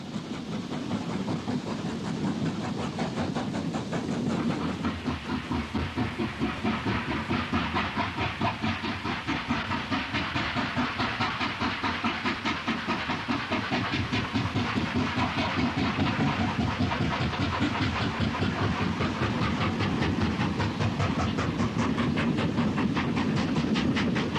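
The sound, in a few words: steam train climbing out of station toward Bowling Junction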